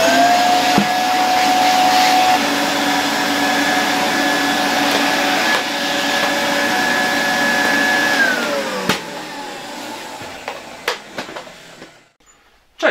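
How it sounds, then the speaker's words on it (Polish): A Polish Zelmer type 108 vacuum cleaner from 1986 runs with a loud, steady motor whine and rush of air, then its pitch drops as it winds down and switches off, leaving a few sharp clicks and handling knocks. "zobaczcie, jakie podciśnienie robi się w odkurzaczu"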